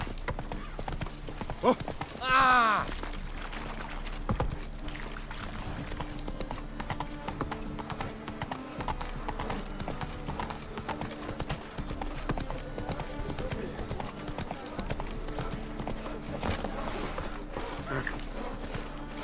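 Horse hooves galloping in the video game The Witcher 3: Wild Hunt, a continuous rapid clip-clop rhythm under game sounds and music, with a brief whinny-like call early on.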